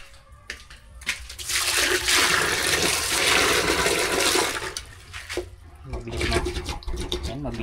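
Water from a bucket is poured into a toilet drain, making a loud sustained rushing gush for several seconds that tapers off with trickling and gurgling.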